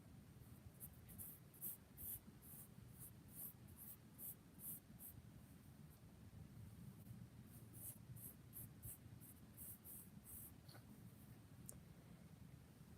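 Pencil scratching steadily across paper while sketching characters, a continuous close, soft scraping with quick rhythmic strokes and no voices.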